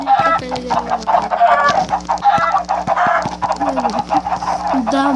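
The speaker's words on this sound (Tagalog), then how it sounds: "Ang dami. Ang daming chicken." Chickens in the Minecraft video game cluck repeatedly in a busy, overlapping flurry of short calls, loud and close, with a person talking intermittently underneath.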